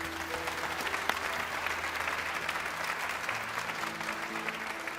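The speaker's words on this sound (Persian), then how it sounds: "خیلی تشویق کنیم محمد" An audience applauding steadily at a Quran recitation event, a dense continuous patter of clapping from a room full of people with no speech over it.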